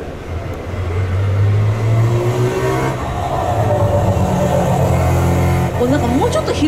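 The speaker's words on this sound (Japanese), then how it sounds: "ロータリーの音ですよね" Mazda RX500 concept car's rotary engine revving close by at a classic car show, a loud buzzing drone rising and falling in pitch, with people talking over it.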